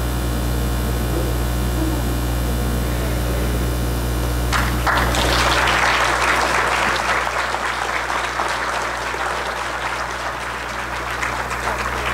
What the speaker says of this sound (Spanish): despedimos a la doctora Nuria con un fuerte aplauso.